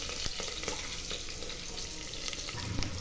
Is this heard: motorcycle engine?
no